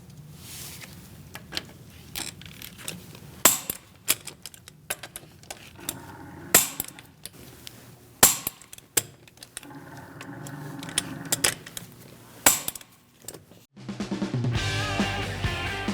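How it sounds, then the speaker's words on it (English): A torque wrench with a 17mm socket tightens the wheel lug bolts on a 2000-2006 Mini Cooper to 95 foot-pounds in a crisscross pattern, giving sharp isolated clicks a few seconds apart over quiet handling noise. "We're going to torque our wheels to 95 foot-pounds. I'm using a 17mm socket."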